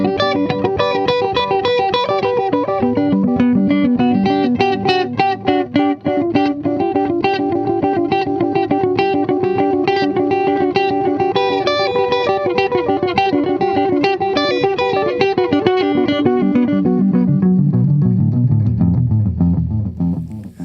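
Electric guitar arpeggios run through an analog delay pedal, overlapping repeats blurring into a dense, loud wash with faint hiss beneath, the echoes decaying into a low fading tail near the end.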